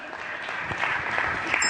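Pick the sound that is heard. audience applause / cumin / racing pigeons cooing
audience applause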